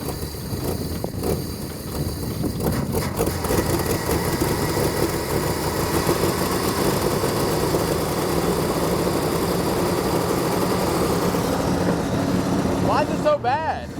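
An old Plymouth Barracuda engine left abandoned for decades runs steadily at a rough, loud idle close by, a continuous mechanical rumble that holds throughout before a brief shift near the end.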